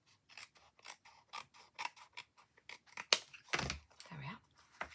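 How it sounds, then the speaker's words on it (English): Scissors trim excess paper from a stamped card, a run of quick, close, crisp snips and paper rustles in irregular bursts, fairly quiet overall. "on the back I'm going to cut off that excess."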